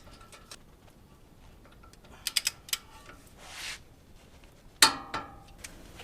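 A ratchet snugs up a front suspension bolt on a Toyota Tundra, giving a few sharp clicking bursts and a short grinding creak amid quiet workshop background, with no speech.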